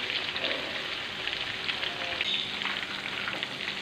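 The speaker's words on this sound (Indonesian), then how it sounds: "untuk pertama-tama kita goreng ayamnya terlebih dahulu" Chicken pieces fry in hot oil with a loud, continuous crackling sizzle that holds steady from start to finish, close and dense like heavy rain, with no voices.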